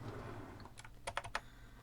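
Fingers typing on a computer keyboard: a short burst of several quick, light key clicks, close and fairly quiet, with no talking.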